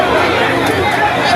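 A dense crowd chatters on a busy Lagos Island street, a continuous close babble of many voices.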